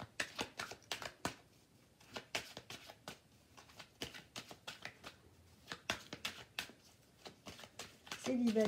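Tarot cards are shuffled by hand in quick, crisp riffling bursts close by, with someone speaking French in between.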